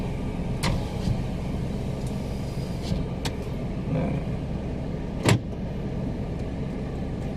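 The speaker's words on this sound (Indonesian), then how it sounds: "Kita hidupkan dulu mesinnya guys." A manual car's engine idles steadily inside the cabin, a low constant hum with a few faint clicks and knocks, and no one speaking.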